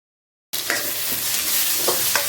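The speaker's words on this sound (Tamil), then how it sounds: "போட்டு நல்லா இந்த வெங்காயத்தை ஓரளவு வதக்கணும்" After a brief silence, a loud steady sizzle of small onions frying in hot oil with cumin and curry leaves begins, with a few soft stirring scrapes and no talking.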